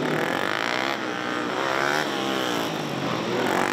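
A motorcycle at a gymkhana competition accelerates hard out of an offset slalom toward a turn, its engine note rising and falling in quick rhythmic revving, close and loud without any talk.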